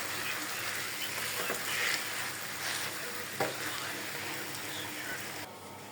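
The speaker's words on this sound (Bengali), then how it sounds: "এবার আমি নেড়ে ছেড়ে ভালো করে ভেজে নেব।" Ground chickpea paste for halwa fries in oil in a pan, giving a steady, fairly quiet sizzle with occasional stirring scrapes that continues without pause for several seconds.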